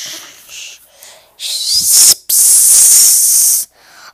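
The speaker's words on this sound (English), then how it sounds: "That fish bionic claw punctured the living spray tank." A punctured spray tank in a cartoon factory lets out loud bursts of hissing spray: a short hiss, a brief gap, then a longer sustained blast that cuts off abruptly, with no talking.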